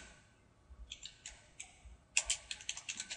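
Faint, sparse keystrokes tap on a computer keyboard, a few scattered clicks at first, then a quicker burst of typing toward the end.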